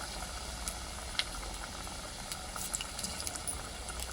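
Cut potato pieces frying in a pan of hot oil for a homemade snack, a soft continuous sizzling hiss with scattered tiny pops and crackles, faint and even, with no talk.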